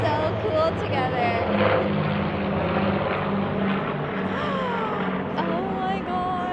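Propeller airplane passing overhead at a Parliament Hill airshow, a steady droning engine hum that holds at moderate distance, with excited voices talking beneath it.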